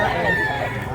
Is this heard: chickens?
yes